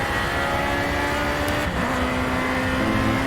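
Race car engine in the Project Cars video game, driven with a wheel and paddle shifters, hums at a steady loud pitch with a brief break around a gear change, then settles into a new steady drone.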